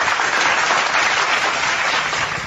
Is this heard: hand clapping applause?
yes